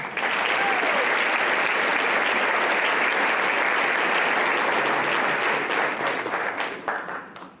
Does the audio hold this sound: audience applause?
yes